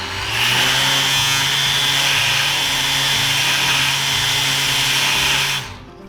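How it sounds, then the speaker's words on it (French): A Mirka Deros electric sander whirs up to speed and runs at a steady high-pitched whine with a constant hum beneath, then cuts off and spins down near the end; no talking. "on appuie sur la palette et on démarre,"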